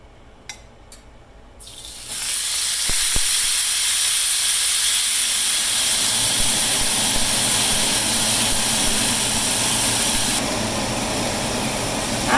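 A London broil steak hits a hot grill pan, bursting into a loud, sustained sizzling hiss after a few quiet clicks and taps, continuing strongly to the end.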